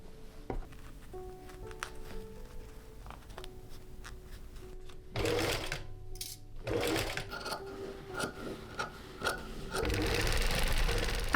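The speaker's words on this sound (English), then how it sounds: "Pin everything in place and sew around it." A sewing machine stitches layers of lace for a vintage wedding dress, its steady mechanical whirr running in bursts with brief pauses and a few light clicks between runs, close and moderately loud.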